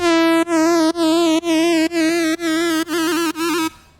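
A bright buzzy synth note repeats in eight even pulses, each swelling and cutting off, with a thin airy hiss riding the upper edge of the tone.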